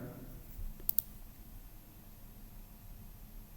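Two quick, faint mouse clicks land close together on a computer while running a program in a Java development environment, set against a quiet room hum.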